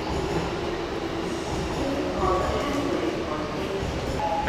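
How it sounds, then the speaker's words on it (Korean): Steady rumble and rattle of a subway train in motion, with wheel squeal and faint clatter running throughout; the rider's surroundings stay constantly loud. "전철타고."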